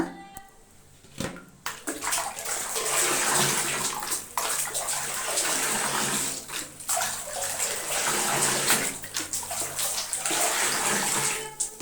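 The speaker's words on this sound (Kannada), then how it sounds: "ಅಷ್ಟನ್ನು ಸೇರಿಸಿ ಚೆನ್ನಾಗಿ ನೀರನ್ನು ಕಲಸೋಣ" Rock salt is stirred by hand into a tub of bathing water, giving a continuous close sloshing and splashing with brief pauses between bursts of swirling.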